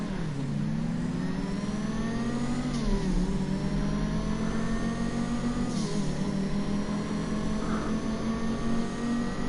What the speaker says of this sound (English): Nissan Skyline GTR is not that fast.